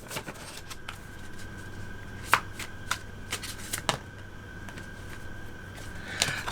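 Tarot cards are shuffled and drawn close up, with soft riffling and sliding interrupted by several sharp flicks and snaps as individual cards are pulled and laid down.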